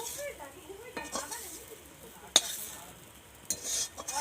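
Fried potatoes stirred and lifted out of a pan while cooking egg chowmein, with soft scraping, faint sizzle and a couple of sharp utensil clinks against the pan.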